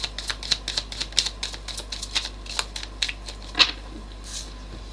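Tarot cards shuffled by hand during a live reading, a quick run of crisp papery flicks and riffles, close and fairly soft, with one sharper snap near the end and no talk over it.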